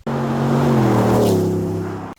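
A 2019 GMC Sierra pickup fitted with an AWE 0FG exhaust gives off a deep, steady exhaust drone up close for about two seconds. Its pitch sinks slightly toward the end, then cuts off.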